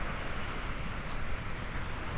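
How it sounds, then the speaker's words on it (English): Wind buffets a camera microphone on a boat on a mildly windy day while out snorkelling, producing a steady, rough, close rumble that fills the whole stretch with no talking. "It just sounds windy, I think, in the camera."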